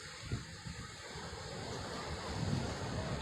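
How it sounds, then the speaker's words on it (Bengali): Sea waves wash onto Laboni beach at Cox's Bazar, a faint continuous surf roar mixed with wind rumble and no voices. "কেমন ঢেউ এগুলো"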